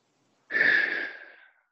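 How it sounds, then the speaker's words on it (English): A single deep breath during a warmup exercise, drawn in and slowly released over about a second, close and clear, fading gently at the end with no talking. "Two big breaths."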